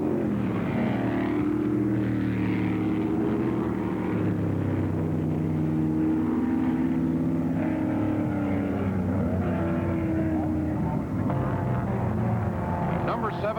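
Race cars at the 1965 LA Times Grand Prix roar in a steady, continuous drone of several engines racing together, with a commentator talking over the noise throughout.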